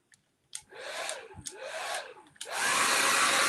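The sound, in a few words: hair dryer blowing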